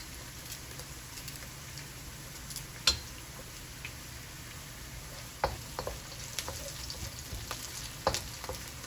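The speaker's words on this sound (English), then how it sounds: "I'm gonna go ahead and drop my garlic in here." Garlic, about two pegs' worth, frying in a pan for canned jack mackerel in tomato sauce: a steady faint sizzle with scattered soft clicks and stirring taps, a few sharper knocks standing out.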